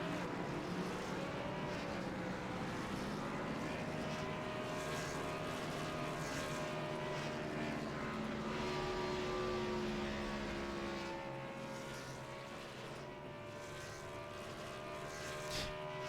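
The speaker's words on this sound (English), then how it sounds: "that doesn't seem too much like a burnout anymore, more like just maxing out the engine" A stock car engine revs hard and steadily during a post-race burnout at Martinsville after the CASCAR Jim Hallahan 100, a loud sustained roar with shifting pitch that eases slightly near the end.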